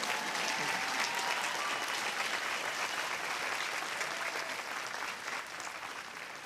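Sustained applause from the audience at a Pacific University commencement ceremony honoring the graduates, a thick, even wash of clapping that tapers slightly toward the end.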